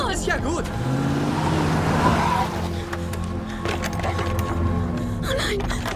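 A car driving fast in a film scene: a steady engine and road roar sits under tense, urgent talking and gasps from the people inside.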